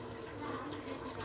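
Water is poured out for washing hands, producing a steady, fairly loud rush and splash that continues unbroken throughout with no talking.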